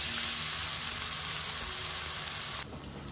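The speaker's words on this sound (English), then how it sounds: "Then saute the onion." Onion sautéing in olive oil with red pepper, a bright close sizzle and crackle that holds steady, then abruptly drops quieter near the end.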